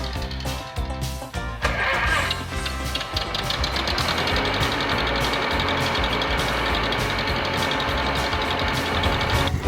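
An antique tractor engine, once owned by the driver's great-grandfather, runs steadily through a small-town parade in North Dakota. Its loud, continuous mechanical clatter carries a fast rhythmic knock with a dense metallic hum, and there is no talk.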